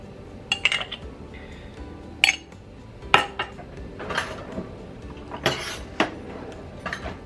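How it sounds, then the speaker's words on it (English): A whisk rattles and clinks against a cup while stirring a tablespoon of cornstarch slurry, with scattered sharp metallic taps and scraping between quieter swirls, close and fairly light. "I'm just going to whisk that around a little bit to allow it to start to thicken up"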